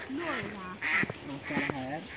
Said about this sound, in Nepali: पानी हाँस चाहिँ उड्छ